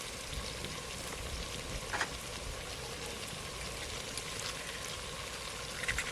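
Spices and tomato frying in a pan after coriander-cumin powder goes in, a constant soft crackling sizzle with a couple of faint clinks, quiet and unbroken by speech.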